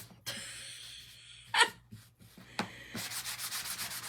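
Roughly 220 grit sandpaper rubbing by hand on a lemon wreath craft piece, in short separate strokes at first, then a quick run of rhythmic scrubbing passes, close and fairly quiet.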